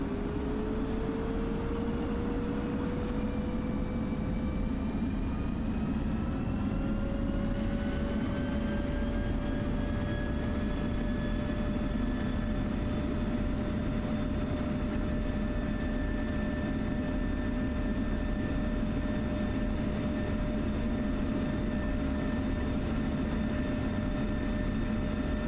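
An F-16 jet engine in DCS spools up from 20% RPM as the throttle comes forward, a steady roar with whining tones rising and then settling into a sustained, loud, even drone.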